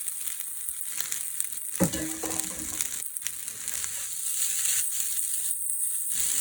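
Jeera rice tossed and fried in oil over a high flame gives a continuous close sizzle, broken by a few brief clinks and scrapes from the stirring.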